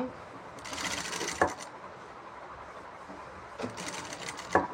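A sewing machine stitches a churidar seam in two short bursts of rapid whirring, separated by a quiet pause, each ending in a small click.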